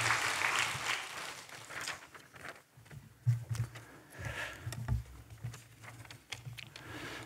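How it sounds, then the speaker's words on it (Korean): Church congregation at a Sunday afternoon service in a Korean church applauding in thanks after a missionary's sermon, a textured spread of clapping near and far that swells and dips unevenly over several seconds. "선교사님께 다시 한번 감사의 박수를 부탁드립니다"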